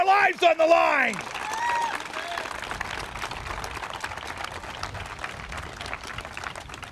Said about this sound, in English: Can we get a big round of applause for those men and women?